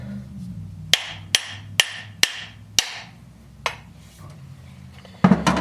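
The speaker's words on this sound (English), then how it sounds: "I'm going to give it a couple more whacks just to make sure it's all the way down" An axe head is whacked down onto its wooden handle in a series of sharp, ringing strikes: five evenly spaced hits, then a lighter one, and a quick double blow at the end.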